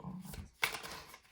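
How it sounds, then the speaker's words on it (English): A short, soft riffle of tarot cards being shuffled, with a crisp snap of cards near the middle, quiet and close. "We're going to keep shuffling because that was not a good shuffle."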